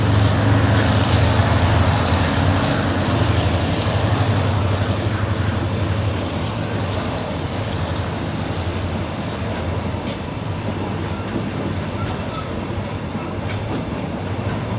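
Thaksinarat special express train 32 passes close by near Photharam station, a loud sustained rumble of locomotive and carriages rolling along the track, easing slightly toward the end with faint high wheel squeals.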